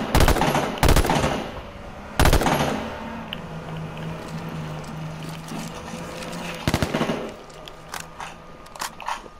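Marauder rifle firing in the battle royale game H1Z1, loud bursts of rapid shots in a few separate volleys with quieter pops between, over a low steady background.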